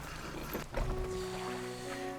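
Boat engine in a video game hums and drones steadily with a low rumble and a brief splashy surge, fairly quiet and unaccompanied by speech.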